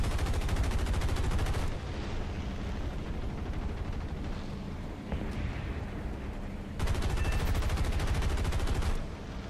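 Aircraft machine guns in War Thunder fire in sustained dense bursts, loud and close, with a brief lull of lighter rattling and engine drone between two heavy stretches of continuous fire.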